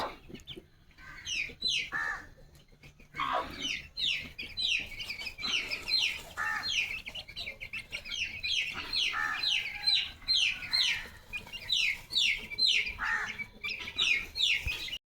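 A young chicken let outside for the first time gives rapid high clucks and chirps in lively bursts that repeat close by, with no talk.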